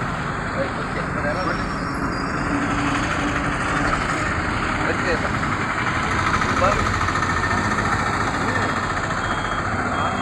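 A car engine idles at a night-time police vehicle check in Nellore, a steady low rumble mixed with roadside traffic noise while people talk nearby.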